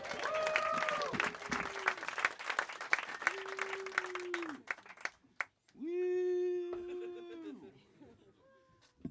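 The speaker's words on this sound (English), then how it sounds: "Start clapping right now for Luke Neumann, everybody." Comedy club audience at a stand-up showcase bursts into loud, dense applause with whoops and cheers, fading out halfway, followed by a host's amplified voice speaking over scattered claps.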